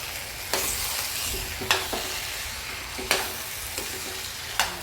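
Potatoes and coriander stirred in a sizzling pan, with a steady frying hiss broken by several sharp scrapes of the spoon against the pan at irregular intervals and no talking.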